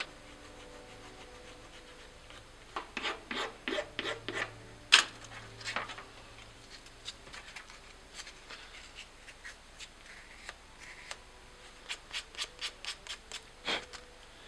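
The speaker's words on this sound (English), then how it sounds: "I'll file them down and then I'll sand them so they're nice and smooth" A flat file works bevels into MDF replica gun parts in a workshop, dry rasping strokes arriving in short bursts with pauses between them, close and fairly quiet, with no voices.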